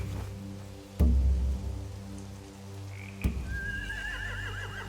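Horses neighing, a rising, wavering whinny near the end over a low steady hum, preceded by two sharp knocks or thuds, with no voices.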